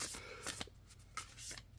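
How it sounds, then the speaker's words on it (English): A deck of oracle cards is shuffled in several quick riffling bursts with brief pauses between them, close and crisp, with no talking. "I'm going to shuffle this deck a couple different ways"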